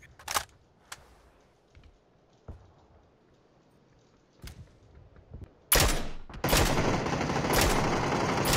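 Gunfire in PUBG: a few scattered single shots early on, spaced by near-silence, then a loud dense burst of rapid fire that keeps going to the end.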